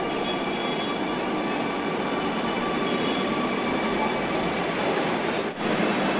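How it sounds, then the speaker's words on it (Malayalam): Steady rumbling roar of a metro train ride near Edappally, Kochi, heard from inside the carriage, a continuous broadband hum with faint rail tones and a brief dip near the end, no talking. "നമ്മൾ മെട്രോയ്ക്ക് അകത്തോട്ട് പോവുകയാണ്."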